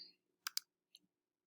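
A computer mouse right click: a few small, close, crisp clicks, two in quick succession and then a softer one, in a quiet room.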